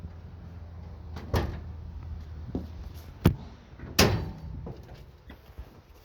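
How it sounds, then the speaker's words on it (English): Hood latch pulled and hood opened on a 1965 Ford Mustang GT K-code, a few sharp metallic clunks and thumps close by, spaced over several seconds against quiet outdoor background. "So I'm going to pull the hood latch here."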